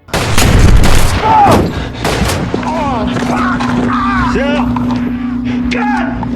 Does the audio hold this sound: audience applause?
no